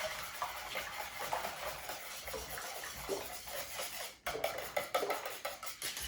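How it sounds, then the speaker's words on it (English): Brown eggs being whisked in a bowl for French toast, a steady close-up stirring and scraping that runs the whole time, with a few sharper clicks of the utensil against the bowl near the end. "You wanna be sure that the eggs are mixed in really good"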